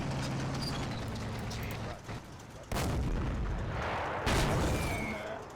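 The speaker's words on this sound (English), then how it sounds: "And you see the rest of the shots just bouncing off the front." Shells strike and glance off a tank's front armour in a World War II tank combat game, sounding as a run of loud booming impacts and ricochets, with heavier bursts near the middle and end over a steady rumble.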